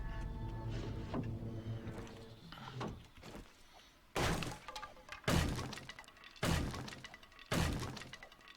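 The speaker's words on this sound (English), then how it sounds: "exploding crossbow bolt" Impacts from exploding crossbow bolts in the 7 Days to Die video game, set in a daycare building: several sharp, loud bangs with shattering debris, spaced about a second apart after a quieter rumbling stretch.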